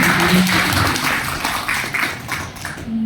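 A seminar audience gives a round of applause for a speaker who has just finished sharing. The clapping is loud and continuous, with a murmur of voices mixed in, and eases slightly toward the end.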